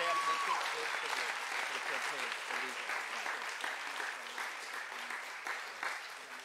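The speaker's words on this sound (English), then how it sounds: "Come on, let's give a great big clap." A church gathering applauds together, a steady wash of clapping that stays fairly even and slightly distant throughout, slowly tapering toward the end.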